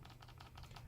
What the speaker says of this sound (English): We're going to type in a shortcut